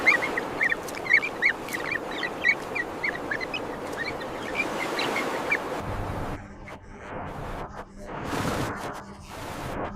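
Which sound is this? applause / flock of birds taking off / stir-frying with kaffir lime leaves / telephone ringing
flock of birds taking off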